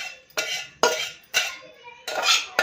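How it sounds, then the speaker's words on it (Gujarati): A hot spiced tempering is poured into buttermilk and stirred in a steel vessel, making four short bright bursts of clinking, splashing sizzle at a steady pace, close by with no talk. "હવે છાશમાં નાખી દઈએ આપણે જે વઘાર કર્યો"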